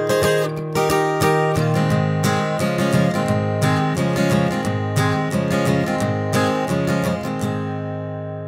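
Capoed acoustic guitar plays the intro of a song, a bright, rhythmic strummed and picked pattern with crisp repeated attacks, close and steady without voices.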